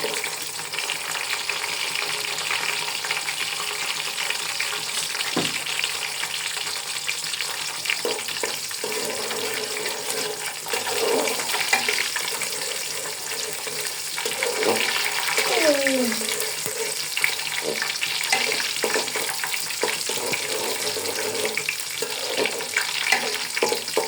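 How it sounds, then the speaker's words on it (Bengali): Onion fries in a pan with a steady, close hiss of sizzling oil that runs throughout, punctuated by scraping stirs and a few light clanks, with a voice briefly heard over it. "পেঁয়াজটা আমি ভেজে নিব।"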